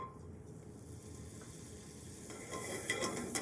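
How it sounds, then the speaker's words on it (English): Butter going into a heated pan gives a faint, even hiss that swells a little louder near the end, with no voices present. "I'm going to start off by adding my butter"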